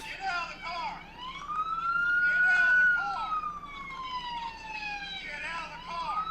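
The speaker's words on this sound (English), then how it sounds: "he left his siren on" A police siren wails in a long rising and falling sweep, loud and close, with faint voices beneath it.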